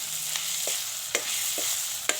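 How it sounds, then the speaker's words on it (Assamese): Boiled pork frying in a pan, browning, with a constant close hiss of hot fat and a few sharp pops or stirring knocks at intervals, no one talking. "ধুনীয়াকৈ ভাজি ল'লোঁ গাহৰি মাংসখিনি।"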